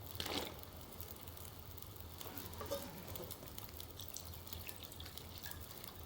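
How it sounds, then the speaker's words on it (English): Water being collected in The Long Dark survival game: a steady, soft trickling hiss with faint drips runs evenly for the whole stretch, close and fairly quiet, with no talk. "So we're gonna get filled up on water"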